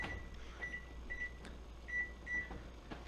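Short electronic beeps from a kitchen timer sound in pairs and singles, quiet against a low steady hum of room noise.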